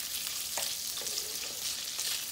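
Hot dogs frying in a little canola or olive oil, a steady soft sizzle with faint crackles and a few light stirring scrapes, close and continuous with no talking.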